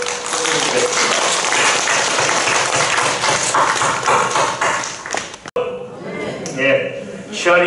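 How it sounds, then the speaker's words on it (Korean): A church congregation at a Monday worship service in a large auditorium gives thanks with a long, dense round of applause that fades out, followed by a voice speaking. "우리 건강 주신 하나님께 한번 감사의 박수 드리겠습니다."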